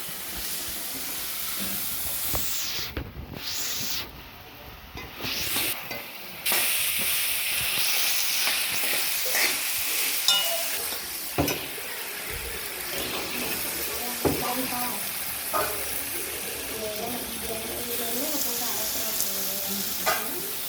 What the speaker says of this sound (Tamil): தொக்கை இப்போ நல்லா நம்ம வதக்கிக்கலாம்